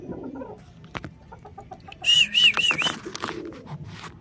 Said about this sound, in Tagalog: So, manok natin, bantam.